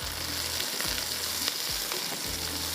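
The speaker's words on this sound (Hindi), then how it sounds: "जब तक इसको मैं ज़रा फ्राई करती हूँ।" Whole garam masala and finely chopped green chillies frying in hot oil, a steady close sizzle broken by a few stirring scrapes, with no voices.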